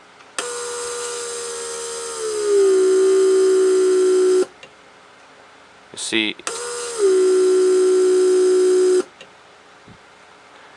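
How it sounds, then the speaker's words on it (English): A Mercedes S350 door lock vacuum pump drones with a steady electric whine, dropping slightly in pitch, cuts off, then starts again for a second run; a brief spoken word falls between the cycles. "The pump will cycle a few times to fill up pressure and vacuum storage tanks"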